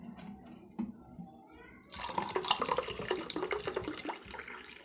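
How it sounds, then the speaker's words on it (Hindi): Water is poured into a mint drink for Ramadan, giving a steady splashing pour that starts partway through after a few faint clinks and runs on for several seconds. "इसके अंदर पानी को ऐड करूँगी"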